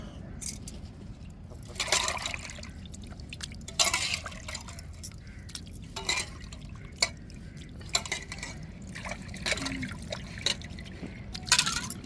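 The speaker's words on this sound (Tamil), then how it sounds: "இப்போ ராலையெல்லாம் நல்லா உரித்து எடுத்துட்டோம் நல்லா அலசி எடுத்துருவோங்க" Peeled prawns are rinsed by hand in a bowl of water, giving scattered splashes, drips and sloshes at irregular intervals, fairly quiet and close by.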